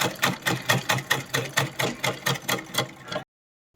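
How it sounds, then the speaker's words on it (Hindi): Sewing machine stitching cloth for a summer outfit for Kanha ji, a steady run of about a dozen even, rapid stitch pulses, close and fairly loud, then stopping abruptly. "तो ये हम ऐसे दबाते हुए सिलाई कर लेंगे धीरे धीरे"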